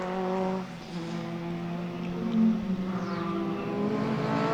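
A historic Brabham BT11 racing car, modified to BT11/19 specification, runs at the Donington Historic Festival, its engine note rising and falling steadily as it drives past at moderate distance with no talk.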